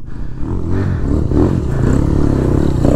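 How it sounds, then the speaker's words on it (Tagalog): Dirt-trail ride on an HJX 250cc 4-stroke trail motorcycle up Mt. Williams, the engine rumbling steadily up close with loud, rough low-end drone and clattering over the terrain, swelling slightly midway and holding strong throughout. "Eto yung motor ko."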